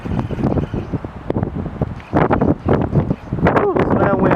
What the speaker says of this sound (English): Woo, listen to that wind.